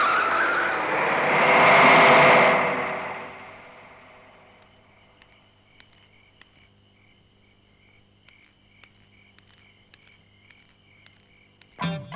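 A car in a Tamil film scene skids as it swings around, a loud broad tire screech swelling in the first few seconds and then fading, leaving faint insect-like chirps and a sharp bump at the very end.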